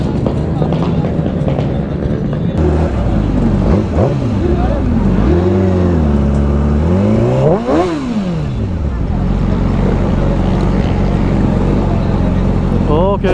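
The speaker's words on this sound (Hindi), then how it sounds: "ये पटपटियाँ लेके इन्होंने बहुत नॉइज़ क्रिएट की है बहुत ज़्यादा" Heavy motorbikes at a crowded bike show rev hard and loudly, their engines rising and falling in repeated throttle blips over a constant dense rumble that lasts throughout.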